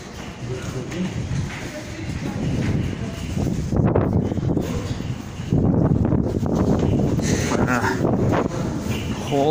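Gusting wind buffets the microphone in loud rumbling bursts in cold weather outdoors in Kyiv, with footsteps and a voice talking over it.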